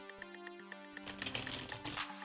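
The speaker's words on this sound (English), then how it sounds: "Just a few more shuffles" Tarot cards riffle and flutter in a quick shuffle, close and soft, with light ticking taps before the rushing flurry, over a quiet background tone.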